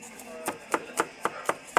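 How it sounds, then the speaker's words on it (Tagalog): A knife chops onion on a board for cabbage and carrot dishes, about six sharp, evenly spaced cuts, close and clear, with no talk. "Ayan, so chop lang natin siya."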